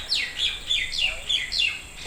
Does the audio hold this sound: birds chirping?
yes